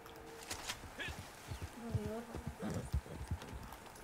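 Horse hooves clip-clop in Red Dead Online, a steady run of close hoofbeats with a brief whinny, while someone talks over them.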